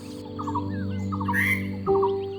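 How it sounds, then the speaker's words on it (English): A common iora, a small yellow-green bird, calls in a wetland, giving short repeated chirps and trilling notes near and clear over a steady droning background. "The common Iora, small but vibrant in its yellow-green plumage."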